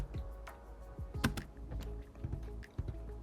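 Keys clatter on a computer keyboard as a command line is entered during a server setup, with irregular bursts of clicks, a few sharper strokes, and a quiet, close sound with no voice.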